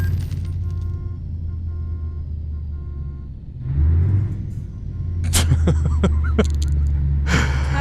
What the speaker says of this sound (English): I just crashed into a parked car.